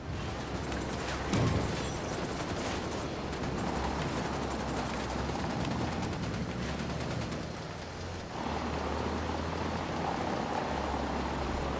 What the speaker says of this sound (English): Taking fire from cartel Sicarios